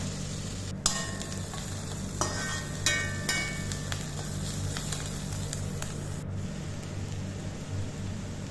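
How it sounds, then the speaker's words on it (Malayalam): Onions, carrots and mixed vegetables sautéing in a pan, a steady soft sizzle with occasional stirring clinks and scrapes, continuous and close, no voices. "അതിലേക്ക് ക്യാരറ്റും ബാക്കിയുള്ള വെജിറ്റബിൾസൊക്കെ ഇട്ടിട്ട് നമ്മൾ നല്ലപോലെ വഴറ്റിയെടുക്കണം കേട്ടോ"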